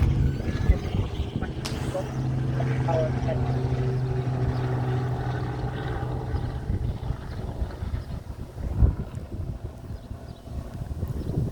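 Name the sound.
helicopter flying overhead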